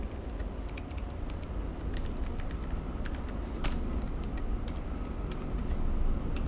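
Rapid typing on a computer keyboard while writing game code, a close, steady patter of light key clicks with occasional louder presses, alone without speech.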